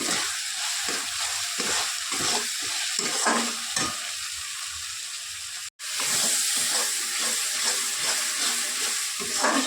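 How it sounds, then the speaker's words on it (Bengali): Ground garlic and onion paste fries in oil, a loud continuous sizzle broken by regular stirring scrapes, with a brief cut partway through. "বেটে রাখা রসুন আর পেঁয়াজ ভালো করে ভাজবো।"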